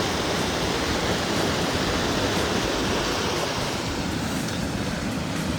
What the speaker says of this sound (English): Awesome waterfall and some cascade.